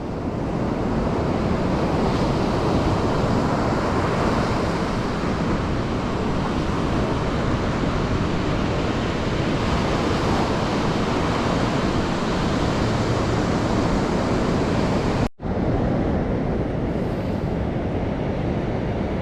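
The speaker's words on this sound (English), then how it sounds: "Waves are looking pretty fun." California ocean surf breaks on the beach in a continuous broadband roar with wind buffeting the microphone, then cuts off abruptly near the end.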